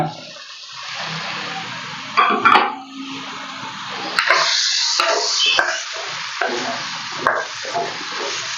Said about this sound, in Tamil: இப்ப நல்லா வதங்கிக்கிட்டு இருக்கு